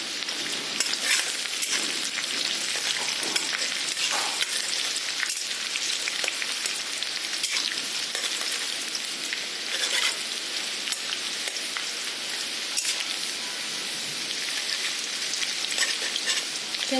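Onions fry in a pan over a gas flame turned up to full, a steady dense crackling sizzle with occasional louder pops, close and continuous throughout, with no talking.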